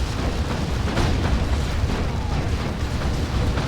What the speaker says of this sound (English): Grenade. Ouch.